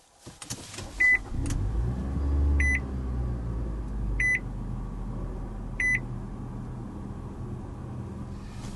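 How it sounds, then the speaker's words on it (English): A 2023 Nissan Altima started by push button gives three or four short electronic chimes at steady intervals over a low, steady engine hum, with a brief louder rush near the start as the engine catches. "Now to start it up, put your foot on the brake and press the standard dash mounted button."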